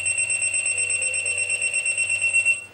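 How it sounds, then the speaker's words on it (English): A plant-floor signal unit's alarm sounds in the background as a steady, rapidly pulsing high electronic tone, fairly faint and continuous, cutting off near the end. "you may be able to hear in the background the plant signal unit playing"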